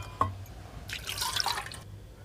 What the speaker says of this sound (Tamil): இப்போ புளி கரைசலை ஊற்றிக்கலாம்.